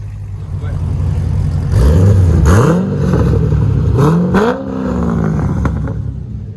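A 2009 Chevy Corvette with a 6.2L V8, long tube headers and a Kooks cat-back dual exhaust revs repeatedly, with a few sharp throttle blips rising and falling over a rumbling idle, close and loud.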